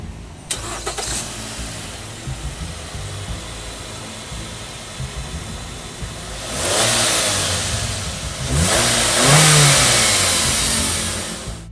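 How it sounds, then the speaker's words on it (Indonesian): A Nissan Elgrand minivan's 2.5-litre petrol engine cranks and starts, then revs up twice with rising roars before settling, close and loud with no talk. "Sekarang kita pengen denger dulu suara mesin ini kayak apa"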